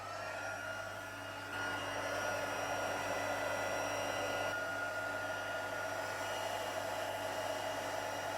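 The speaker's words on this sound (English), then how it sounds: "So I'm just going to heat it up with the heat tool." A heat tool blows hot air over embossing powder on a craft project, a steady close whirring hiss of fan and airflow that holds constant and grows slightly louder after the first second.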